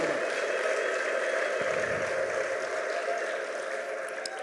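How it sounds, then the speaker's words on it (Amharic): A church congregation applauds for God, producing a dense, sustained wash of clapping with a steady, high trilling ululation running through it. "እስቲ ለታላቁ እግዚአብሔር እልልታና ጭብጨባ።"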